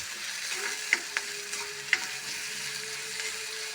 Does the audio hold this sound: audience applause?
no